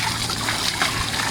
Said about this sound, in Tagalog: hindi kami nauubusan ng tubig. Alam mo yung 24 hours yung agas niyan na walang bayad